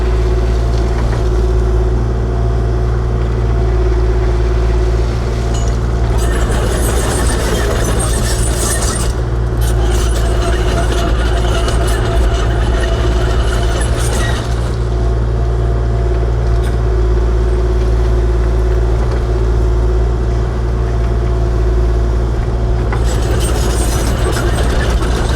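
Kubota KX040-4 compact excavator working at dusk while building a small parking spot along a trailer road: a steady, close, loud diesel drone with clanking and grinding bursts from the machine through the middle and toward the end, and no talking.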